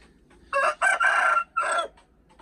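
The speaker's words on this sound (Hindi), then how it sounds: "एक अच्छा असील बर्ड है" An Aseel rooster crows nearby and loudly, one full cock-a-doodle-doo in several bursts: two short notes, a longer drawn middle, then a final syllable, against a quiet background.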